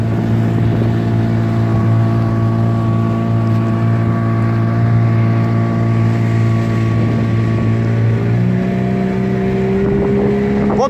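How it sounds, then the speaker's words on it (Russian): Skat 350 motorboat carrying two people on a lake, its outboard engine droning steadily and close, then rising in pitch near the end as the throttle opens and the hull climbs onto plane, with wind noise over the microphone. "И сейчас покажу, как лодка идет у нас с двумя человеками и выходит на глиссер."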